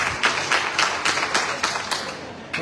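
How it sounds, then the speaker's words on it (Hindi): An audience at a Nishad Party political rally breaks into brisk, rhythmic clapping in unison to welcome attendees, with loud regular beats close by and no voices on top. "तालियों स्वागत करो"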